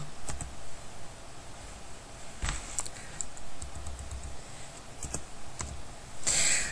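Close, crisp keystrokes on a computer keyboard as code is typed in Lazarus, irregular clusters of taps with brief pauses and a louder clatter at the end.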